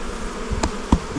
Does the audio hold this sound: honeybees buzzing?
yes